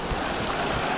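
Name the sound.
mountain stream crossing on Pacific Crest Trail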